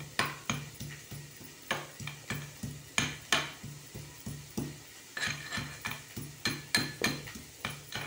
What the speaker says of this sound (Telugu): అల్లం వెల్లుల్లి మెత్తగా దంపేద్దాం.